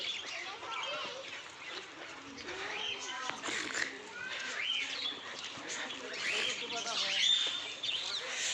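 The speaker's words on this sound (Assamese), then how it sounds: "এইটো পাহাৰীয়া মইনা" Hill mynas and other birds call at the Assam State Zoo in Guwahati: a busy, overlapping chorus of chirps, whistles and short calls at moderate distance, running steadily throughout.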